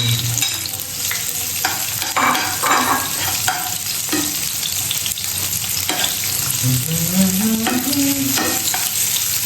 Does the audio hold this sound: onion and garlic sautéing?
yes